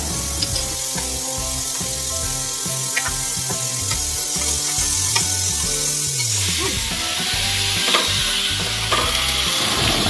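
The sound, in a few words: grated potato frying in a pan with spices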